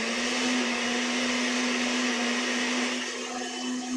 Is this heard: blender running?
yes